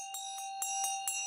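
A Tibetan Buddhist ritual bell rings close by with a sustained, shimmering metallic tone that pulses in a steady rhythm of repeated strikes, heard alone.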